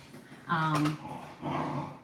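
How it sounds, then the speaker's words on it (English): Dogs playing indoors growl in two loud, close bursts, a rough throaty rumble with a higher whiny edge, separated by a brief quieter pause. "my dogs are playing, I promise"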